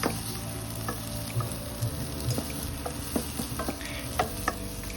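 Chopped onion sautéing in a pan with garlic already browned, a steady close sizzle broken by repeated light scrapes and taps of a spoon stirring through the pieces.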